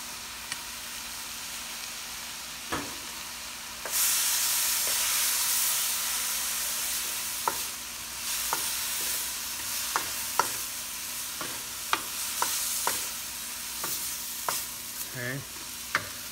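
Small chopped pieces of lechon kawali fry in a pan with a steady sizzling hiss, while a utensil stirs and scrapes in scattered taps and a brief louder burst of hissing rises partway through.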